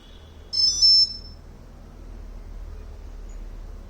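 A single high electronic beep sounds briefly, followed by a low steady hum and quiet background.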